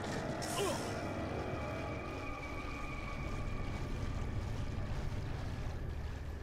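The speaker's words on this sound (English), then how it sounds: "You can hear the waves of in the water" Water waves lapping in Resident Evil 4, a soft continuous wash with wind-like hiss, faint and steady, with a brief brighter splash near the start and no voices over it.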